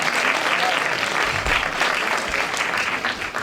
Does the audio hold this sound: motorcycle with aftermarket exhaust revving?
no